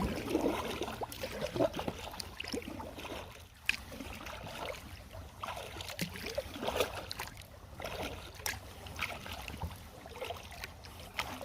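A canoe or kayak paddles along a quiet waterway, with soft repeated paddle strokes, gentle splashes and water trickling close by at a low level.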